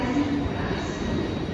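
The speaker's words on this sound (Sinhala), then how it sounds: "ස්ටඩ්ලර්ලා තමයි හදන්නේ කෝච්චිය" A Swiss-built Stadler train running, a steady broadband rumble of wheels and carriage with a faint tonal whine near the start, fairly close and continuous throughout.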